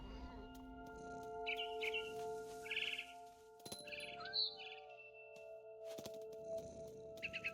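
A frightened barn swallow in a video game gives repeated short, bright chirps in scattered bursts, moderately close, over a low steady ambient hum.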